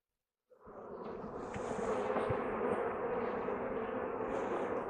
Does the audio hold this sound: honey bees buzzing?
yes